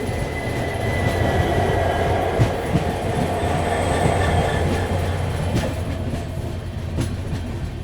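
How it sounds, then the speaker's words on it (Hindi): Pune–Hyderabad Shatabdi Express at speed, a steady loud rumble of rolling wheels and carriage noise with faint rhythmic clatter throughout, no voices. "पुणे से निकलते ही बढ़िया स्पीड मेंटेन कर ली है शताब्दी ने"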